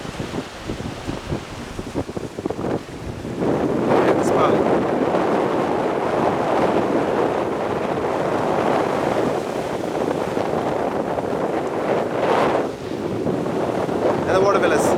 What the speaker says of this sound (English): Speedboat as well.